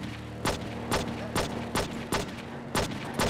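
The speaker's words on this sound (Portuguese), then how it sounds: "Dá uns tiros aqui, vamos ver se ele para." Gunshots ring out in the video game True Crime: New York City, seven loud, evenly spaced shots about half a second apart over a steady engine hum.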